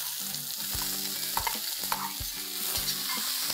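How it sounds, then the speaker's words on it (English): Finely chopped onions fry in a pan with ginger and garlic, giving a steady sizzle broken by several scraping stirs of a spoon against the pan, close and moderately loud, with no talking. "And now I'm going to add 4 medium-sized onions that I have finely chopped."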